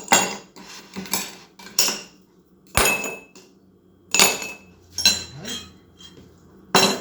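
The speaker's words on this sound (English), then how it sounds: "First thing I need to do is drop about 2 ice cubes in each of my glasses." Ice cubes drop one or two at a time into glasses while whipped coffee is prepared, giving about eight sharp, close clinks and clatters with quiet gaps between them and no talk.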